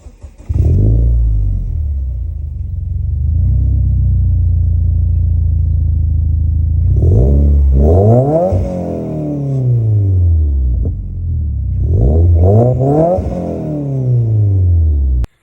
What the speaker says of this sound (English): I'll do an exhaust sound for you guys so you can actually hear what the Nvidia exhaust sounds like